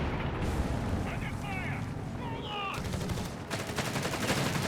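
Whizbang rocket artillery barrage in Company of Heroes 3, heard as a dense, loud wall of booming impacts with brief whistling rocket streaks partway through and heavier blasts near the end, and a voice faintly present.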